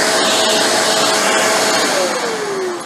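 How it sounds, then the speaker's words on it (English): A Shark Rotator ZU632 upright vacuum cleaner runs with a loud, steady whirring roar and high motor whine, then the pitch drops as the motor spins down near the end. "We turn the vacuum on."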